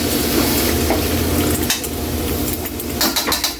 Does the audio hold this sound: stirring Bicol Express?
yes